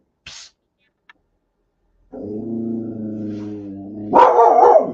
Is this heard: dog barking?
yes